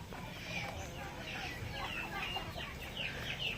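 Heritage and native chickens cluck and chatter in a backyard flock, with repeated short calls rising over a steady farmyard background, fairly close but not loud.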